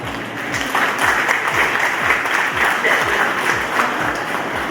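An audience at an award ceremony claps steadily and fairly loudly, a dense, even patter of applause that continues throughout.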